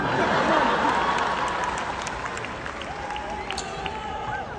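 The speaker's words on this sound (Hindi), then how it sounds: "जो लोग टिकट लेके आए हैं उनके लिए जोरदार तालियां" Audience at a live comedy show clapping in a broad, continuous wash of applause that slowly fades, with some crowd murmur and scattered laughter underneath.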